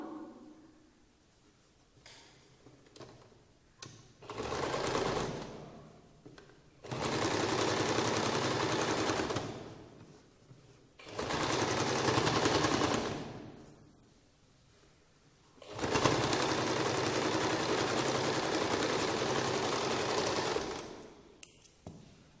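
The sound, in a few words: sewing machine stitching a sleeve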